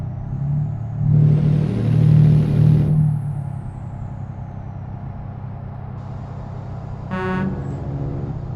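Truck horn in the Euro Truck Simulator 2 video game: a long, loud, deep honk lasting about two seconds, then a shorter blast later, both over a low engine rumble.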